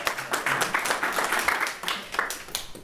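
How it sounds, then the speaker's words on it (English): Applause from an audience at a wine business research conference, a short spell of uneven clapping, fairly quiet and choppy, with a little voice mixed in. "let's give Natalie a great round of applause"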